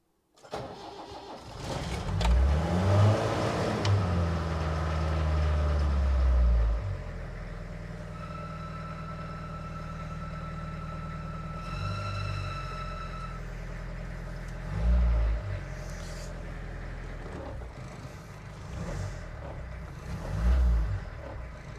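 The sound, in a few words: diesel car engine cranking, starting and running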